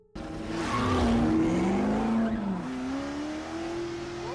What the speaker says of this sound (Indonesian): Ken mencoba lagi menggunakan mobil berwarna putih yang sudah dipasang menggunakan mesin baru.